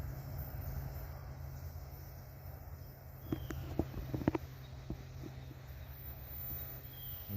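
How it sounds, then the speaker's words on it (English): Norfolk Southern freight train rolling uphill around a curve, a low steady rumble with scattered clanks and metallic knocks from the cars, moderately distant. "there's a train going around the corner uphill"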